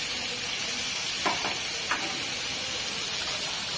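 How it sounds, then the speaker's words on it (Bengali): Small fish seasoned with turmeric and salt sizzle in a hot pan, a steady soft hiss with a few brief scraping stirs of the spoon partway through, with no voices. "সুন্দর করে একটা নাড়াই দিই"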